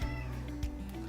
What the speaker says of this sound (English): If you guys hear any meowing, that is our cat in the background.